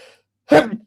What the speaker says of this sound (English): Yeah, that was a painful sneeze.